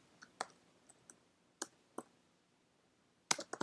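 Computer keys click in scattered, uneven taps close to the microphone, a few isolated presses followed by a quick cluster of rapid keystrokes at the end, with a quiet room behind and no talking.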